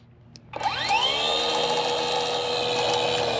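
A Lemolifys 21-volt battery-powered weed eater spinning up from quiet into a steady, loud electric whine that holds evenly, heard up close with no talking.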